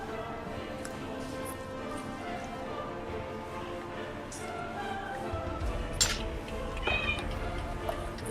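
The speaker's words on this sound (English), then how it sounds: "I heard a cat." A cat meows a few times from a short distance, its calls rising over a steady indoor background hum, with no talking while it sounds.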